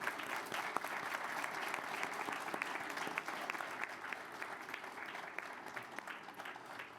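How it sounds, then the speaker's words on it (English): An audience at a school board meeting applauds a student award recipient, steady dense clapping from a roomful of people, moderately distant and even throughout with no talking over it. "please give a big round of applause for our President's Award recipient, Hanks High School student Simone Rawson."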